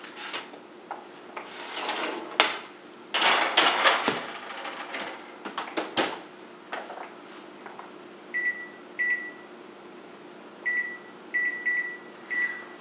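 A kitchen oven is handled and set: a door thuds shut, clattering knocks and button presses follow, then a series of short, high electronic beeps sound in small bursts, close and clear with no talk.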